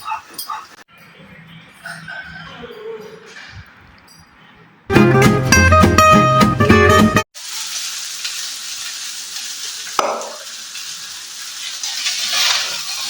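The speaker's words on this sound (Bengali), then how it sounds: "মা এখন মাটনটা কষতে দিয়ে দিয়েছে মশলার সঙ্গে" Mutton frying with spices in a pan for biryani, a continuous hiss and sizzle that begins midway, preceded by a burst of loud music and faint background voices.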